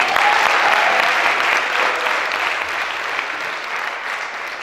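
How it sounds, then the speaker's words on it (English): Audience applause at a live worship concert in a Vancouver church: steady, full clapping from a large crowd, loud at first and easing gradually over several seconds. "Let's give them a round of applause."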